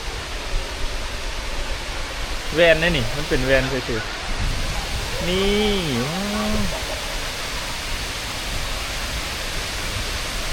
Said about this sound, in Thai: น้ำตกแบบใกล้ๆเลย